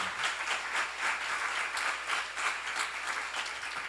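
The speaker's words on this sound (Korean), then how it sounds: "믿는 사람만 박수 한번 쳐보시오." A congregation at a church seminar claps their hands together in a steady, rhythmic unison beat, the crowd applause dense and close, continuing evenly throughout without talk.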